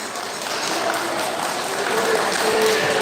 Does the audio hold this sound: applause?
yes